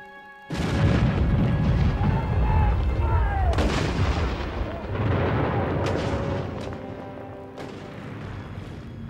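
A World War I artillery bombardment near Fort Douaumont rumbles as heavy booms and blasts. A sudden loud onset turns into a sustained roar with repeated detonations, loud and dense throughout.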